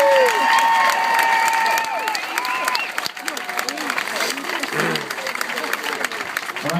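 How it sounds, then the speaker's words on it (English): Applause and cheering from a swim team gathering honoring its 18-year-old swimmers at a July meet, a sustained crowd clapping that fills the clip with voices and chatter mixed in. "a giant round of applause for our 18-year-olds"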